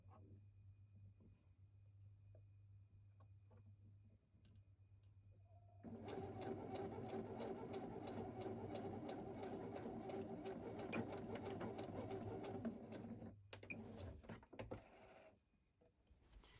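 A sewing machine runs a steady stitching burst along a tee shirt seam for several seconds. It is close and fairly loud over a low hum, then stops near the end and gives way to a few small handling noises.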